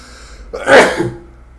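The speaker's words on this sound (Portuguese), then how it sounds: "Perdão, gente, espirrei aqui" A single sharp sneeze bursts out close by, a quick breathy intake followed by a forceful, noisy release that fades quickly.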